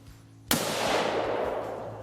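A single sharp gunshot from a hog hunt cracks out close and loud, then a long broad rumble of echo and noise fills the remaining second and a half.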